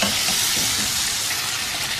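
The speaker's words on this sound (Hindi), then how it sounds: "अब इसको इतनी देर तक पकाएंगे कि इसकी रंगत तब्दील हो जाए।" Mutton (dumba meat) sizzles steadily in a hot pan for a karahi, a dense, continuous frying hiss with soft scraping as it is stirred, close and alone without talk.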